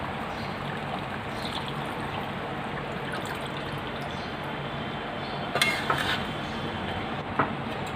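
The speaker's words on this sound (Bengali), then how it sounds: "সেই উষ্ণ গরম জলটি আমি এখন এর মধ্যে দিয়ে দেবো" Warm water poured into a pot of chicken rezala, a steady streaming pour lasting several seconds, with a couple of brief clinks from the pot near the end.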